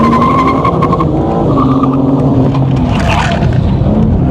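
Race car accelerating hard around a track lap, engine loud and close with rising revs and a squeal of tires into the first turn, continuous and alone without talk.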